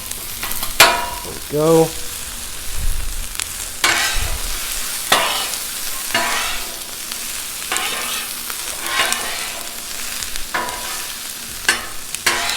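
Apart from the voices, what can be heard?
onions chopped and frying on Blackstone griddle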